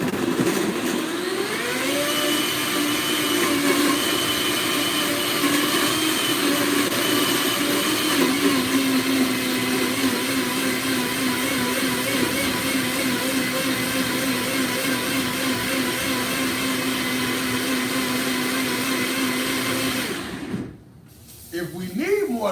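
A blender purees frozen daiquiris with a loud, steady, continuous motor whir for about twenty seconds, then cuts off abruptly and restarts briefly.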